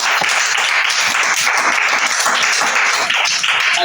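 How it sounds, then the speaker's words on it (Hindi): Classmates in an Urdu writing class clap for a student in a loud, lively round of applause, rapid uneven hand claps close by and continuing without pause. "ताली होनी चाहिए।"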